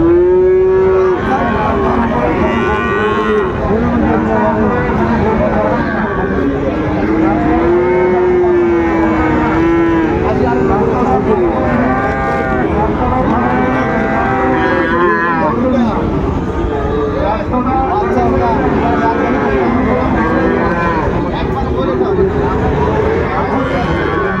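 Cattle, Friesian and crossbred bull calves, moo loudly and repeatedly at a livestock market, long low calls rising over a noisy crowd of people talking and bargaining nearby.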